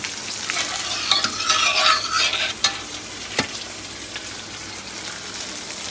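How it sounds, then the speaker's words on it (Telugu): Spice tempering crackling and sizzling hot in oil for spiced buttermilk, a loud fizzing burst that settles into a steadier frying hiss, with a sharp clatter midway. "మజ్జిగ తాలింపు వేస్తున్నాను"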